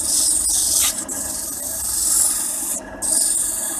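Steady abrasive rubbing and rasping of sandpaper against wood spinning on a lathe, a continuous hiss with a few brief pauses, close and loud.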